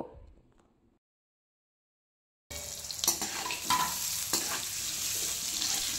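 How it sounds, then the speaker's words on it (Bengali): Potato strips fry in oil with salt and turmeric over a high flame. After a brief quiet gap the sizzle starts abruptly and continues steadily, broken by a few clatters from stirring. "আলুর মধ্যে অল্প করে নুন আর হলুদ দিয়ে হাই ফ্লেমে লালচে করে আলু ভেজে নেব।"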